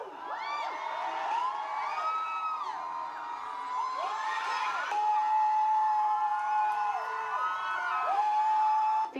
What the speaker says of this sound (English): Fans were cheering and yelling so loudly that she had to stop mid-song for a while